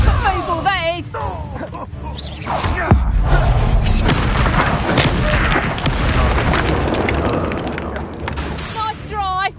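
A Confringo blasting spell bursting in Hogwarts Legacy gameplay: a loud, deep boom rolls into a long crashing rumble of debris, while game voices and effects sound over it.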